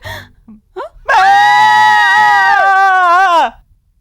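A woman in a Hindi-dubbed South Indian film lets out one long, loud, sustained scream of fright after a few short gasps, close and alone.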